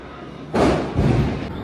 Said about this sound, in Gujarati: અવાજ જ આવે ધડાધડી, બહાર નીકળવા જેવું નથી.